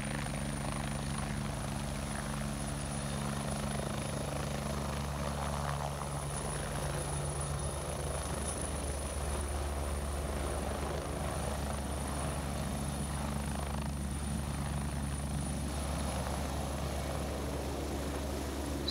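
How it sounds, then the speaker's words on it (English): A helicopter flying overhead during a backcountry airlift, its steady low rotor thump and engine drone holding near and loud throughout without pause. "So Todd's airlifted out."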